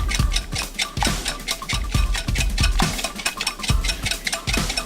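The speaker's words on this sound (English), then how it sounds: "Now we're gonna get a wire whisk and beat the eggs" Eggs beaten with a wire whisk in a bowl: rapid, loud, close clattering strokes in a fast, steady rhythm with no pauses and no talking.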